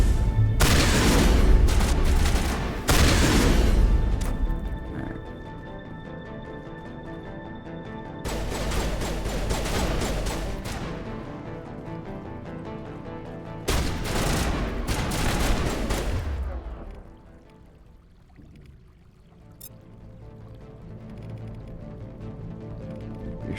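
Loud bursts of gunfire and booming shotgun blasts from Mass Effect come in several heavy volleys, each ringing out and decaying into quieter stretches between.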